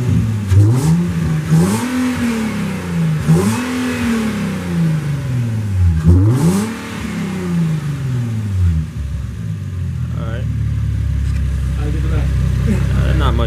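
An Infiniti G37 sedan fitted with a cold air intake revs up sharply three or four times in a row, each rise and fall clearly separated, then settles into a loud steady idle, with voices occasionally heard nearby.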